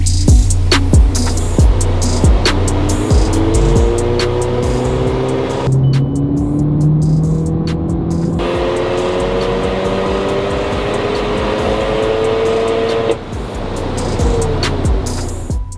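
Audi S1 on a dyno for stage 3 tuning: the engine drones loudly and steadily up through the revs in long pulls, pitch rising then dropping back with brief lifts, close and continuous, with no talking.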